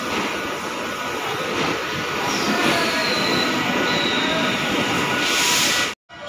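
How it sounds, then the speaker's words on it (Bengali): A local train rolls into the adjacent track at Naihati station at night, beside an express hauled by a WAP-7 locomotive, with loud continuous wheel rumble, rail clatter and high metallic squeal throughout. It cuts off abruptly at the end. "পাশের লাইনে ঢুকছে একটা লোকাল ট্রেন।"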